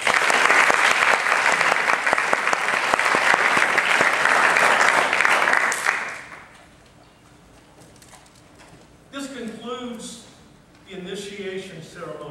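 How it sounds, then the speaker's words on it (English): Applause from an audience at a university honor society initiation ceremony, loud dense clapping for about six seconds that then stops, followed by a speaker talking over a microphone. "Round of applause of gratitude."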